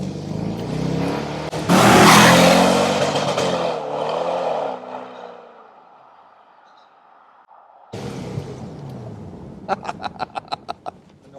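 Engine of a Chevrolet Corvette C5 convertible on the move, a loud, broad roar that swells early, fades to a low hum mid-way, then surges again near the end with a quick run of sharp pulses.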